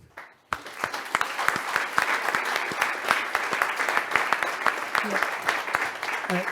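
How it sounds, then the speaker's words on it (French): Hall audience applauding at an association's 20th anniversary celebration, a thick, sharp-edged wash of clapping that starts abruptly and holds steady, with brief voices rising near the end. "je voudrais bien que vous applaudissiez l'ensemble des membres de l'AFPAC"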